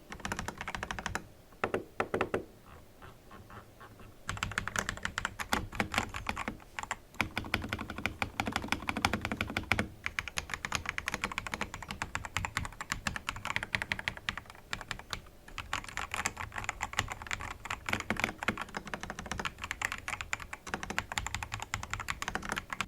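Fingers type steadily on a computer keyboard with backlit letters, a dense run of close clicking keystrokes that pauses briefly near the start, then carries on without a break.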